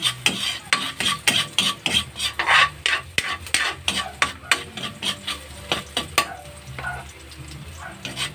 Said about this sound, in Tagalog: Kailangan maingay yung kawali.